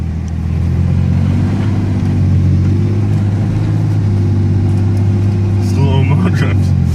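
A Ford Ranger pickup slides and drifts through a snowstorm, its engine a loud steady low rumble close by with a slight rise near the end, while voices talk over it.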